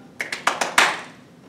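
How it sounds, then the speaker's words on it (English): Five quick hand claps in a loose, accelerating run, close and fairly loud over a quiet room, the last clap strongest and trailing off into silence. "I clapped ahead of time because I was so excited"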